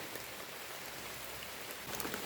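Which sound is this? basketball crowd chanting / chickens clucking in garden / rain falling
rain falling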